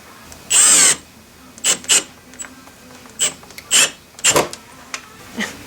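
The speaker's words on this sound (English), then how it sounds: "So what you're doing now is drilling the hole for the little receiver piece." A drill bores a hole for a small receiver piece in a plastic shroud, with one longer whir followed by several short, sharp bursts separated by quiet pauses.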